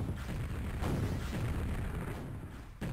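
A rocket explosion in a Quake deathmatch duel on the DM4 map, heard as a dense, booming blast with a low rumble. A second sharp hit comes near the end.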